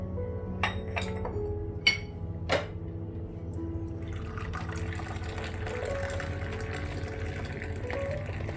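Spiced saffron ginger tea is poured into three cups, with a few sharp clinks of cups early on, then a steady trickle of liquid filling them close by.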